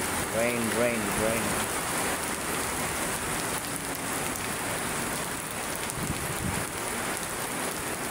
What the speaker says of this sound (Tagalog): Tuwang-tuwa na naman yung ating mga halaman at sila ay nabasa na naman ng ating rain